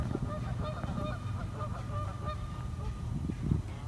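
Repeated honking calls of geese or similar waterfowl at Mingo National Wildlife Refuge over a constant low rumble of background noise, several birds calling at once from a middle distance.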